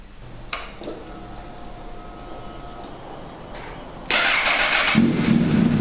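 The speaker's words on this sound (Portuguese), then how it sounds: "vamos só fazer o teste a ver se a moto liga e se está tudo ok" A brief click and whir of a Honda CBR 1000RR motorcycle starter, a pause, then the engine catches and settles into a loud, steady idle close by.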